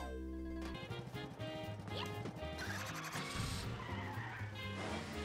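A car driving in Super Mario Maker 2, with engine and skidding tones running steadily over busy game music for several seconds, with no talking.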